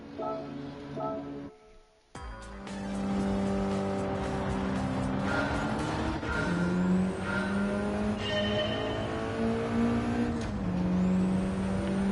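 A stock race car in Gran Turismo 7 revs and accelerates through the gears, the engine note climbing and dropping with each shift, loud and continuous after a brief quiet start, with occasional tire squeal.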